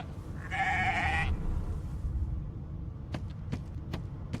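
A sheep in the video game Divinity Original Sin 2 lets out one clear, close bleat lasting under a second, followed by quieter ambient game sounds and a few sharp clicks.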